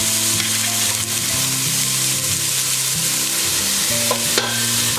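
Onions and garlic sauté in a pot for broccoli cheddar soup, a steady close sizzle broken by scraping stirs, with no talking.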